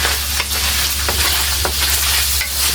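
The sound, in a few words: pork frying in a pan until golden brown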